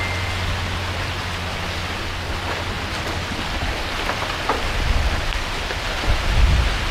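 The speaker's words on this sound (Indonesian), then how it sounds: "Hujan cuy." Steady rain pattering on surfaces, a constant hiss with occasional louder drips and low rumbles.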